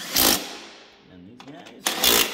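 Power tool cranking bolts tight while a starter solenoid is replaced on a vehicle, two loud whirring bursts with a quieter gap of clicks between them, close up.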